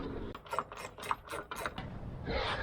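A ratchet wrench loosens Torx 50 bolts that hold a roof rack to a Jeep JL hardtop, giving several quick bursts of clicking pawl in an uneven rhythm, close and moderately quiet, with a short scraping rasp at the end.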